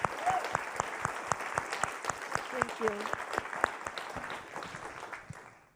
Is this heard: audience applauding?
yes